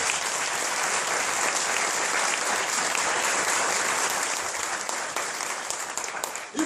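Sustained applause from a large church gathering, dense and even throughout, tapering off at the end.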